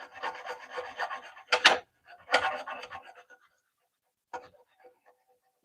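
Scrubbing rust off an old tool before disassembly, heard as bursts of close, rasping strokes in uneven runs, with a few short sharp scrapes after a pause.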